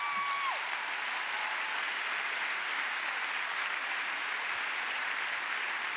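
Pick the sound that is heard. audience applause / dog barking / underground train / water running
audience applause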